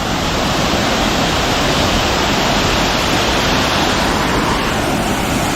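A steady, loud wall of rushing water from a waterfall at Adimali in Munnar, with spray carried on the air, holding one unbroken broadband roar throughout with no pauses or voices.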